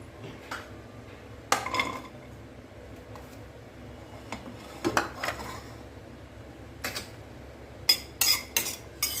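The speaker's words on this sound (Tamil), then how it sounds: "இப்போ நான் தேங்காவை முதல்ல வறுத்துடலாம் தேங்காய் வறுக்கும்போது எண்ணெய் விடாமல் வறுக்கணுங்க" Grated coconut dry roasted in a pan without oil for chutney, heard as soft scraping and stirring with sharp clinks of a utensil against the pan, growing busier toward the end with no talk.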